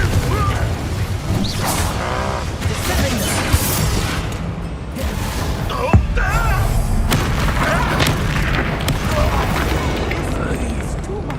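Confringo spell explosions in the Hogwarts Legacy video game, a dense, loud barrage of booms and crashes during combat, continuous for the whole stretch with sharp impacts near 3.5 and 6 seconds and game voices underneath.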